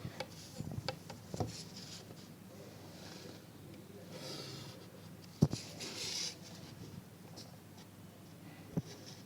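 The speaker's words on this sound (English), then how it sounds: "Now we will draw the other triangle this side." A pencil draws a triangle on paper in a quiet room, making faint intermittent scratchy strokes with a few soft taps.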